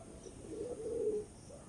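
A restless, hand-held pigeon offered for sale by a Baruipur breeder gives a brief low coo, faint and close, with a quiet background hiss and no talking.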